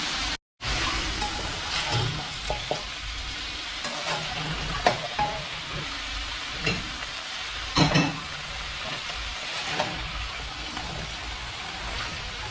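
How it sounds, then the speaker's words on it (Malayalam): Vegetables for a dry aviyal sizzle in a pan while a spoon stirs them, the steady frying hiss broken by scraping strokes and clinks, loud and close with no voices. "എന്നിട്ട് നമുക്കൊന്ന് ഇളക്കി കൊടുക്കണം."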